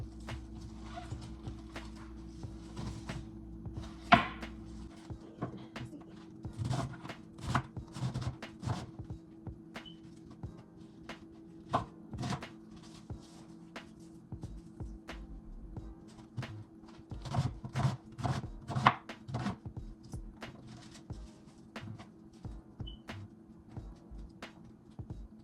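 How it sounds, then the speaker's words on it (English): Fresh cabbage is chopped with a knife on a board, a quiet run of sharp, irregular knocks that come in uneven bursts over a low steady background hum. "I'm just cutting up this cabbage right now"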